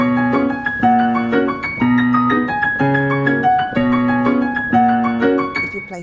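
Piano playing Chopin's Black Key Etude, Op. 10 No. 5, with a repeating low left-hand bass pattern alternating under chords in a steady, lilting rhythm, played solo and clearly up close.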